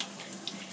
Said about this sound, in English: The water needs to run clear.